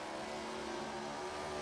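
A NASCAR Gen 4 series race car engine at a trackside race, driver going easy on the throttle, giving a continuous droning hum with a slight rising pitch, heard from a distance at fairly low level.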